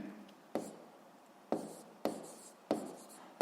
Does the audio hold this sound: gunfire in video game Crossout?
no